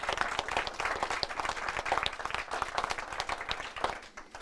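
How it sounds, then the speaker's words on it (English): Crowd applause at a Manitoba government announcement of a universal school nutrition program, a steady rattle of many hands clapping that stays fairly even throughout, heard at a modest distance with no speech. "Clap for that."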